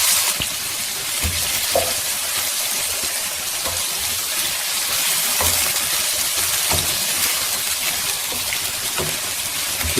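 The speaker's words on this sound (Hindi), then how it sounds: "चिकन को पकते हुए थोड़ा सा हलाते रहें" Chicken fries in a karahi for a shimla mirch (capsicum) chicken karahi, with a steady loud sizzle throughout and occasional knocks of stirring against the pan; no one speaks.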